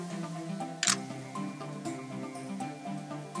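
A single camera shutter clicks once for a selfie, a short sharp snap against quiet background music, taken on location during a portrait shoot with a 16 millimeter lens.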